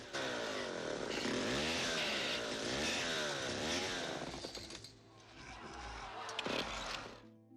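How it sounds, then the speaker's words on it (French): A chainsaw failing to start in a Mad Max film sputters and revs loudly in repeated pulls, catching briefly then dying and coughing again, close and harsh. "Max se munit d'une tronçonneuse qui ne démarre pas."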